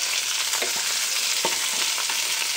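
Sliced onion hits hot oil already holding garlic and dried chilli, a loud, close, continuous sizzle with occasional stirring clicks.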